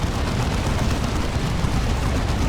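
Inferno bolters fire in a Dawn of War 2 battle, a loud, unbroken barrage of rattling gunfire and blasts that fills the whole stretch.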